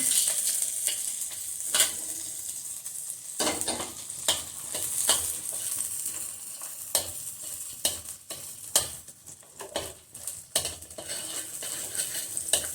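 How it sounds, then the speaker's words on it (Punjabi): Spices roast in butter in a pan for shahi paneer, giving a soft continuous sizzle broken by repeated scrapes and clinks of a spoon stirring against the metal. "ਆਪਾਂ ਇਹਨੂੰ ਇਹਦੇ ਵਿੱਚ ਪਹਿਲਾਂ ਥੋੜਾ ਜਿਹਾ ਰੋਸਟ ਕਰ ਲੈਣੇ ਆ ਬਟਰ ਦੇ ਵਿੱਚ"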